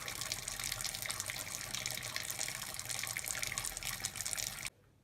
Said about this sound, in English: that's the Blyth Brewery Citra Pale Ale going into the no-chill cube